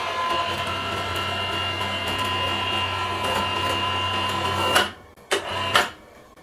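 A 1200 Nm impact wrench runs against a 12.9 high-tensile steel bolt: a steady, loud mechanical drone with rapid hammering texture, then stopping, followed by a few short bursts.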